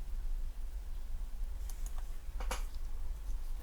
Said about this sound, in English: Super amazing typing.